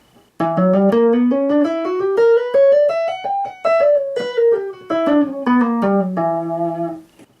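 A melodic instrument plays a Dorian sharp 4 scale note by note, climbing steadily upward and then stepping back down, clear and close with no talking.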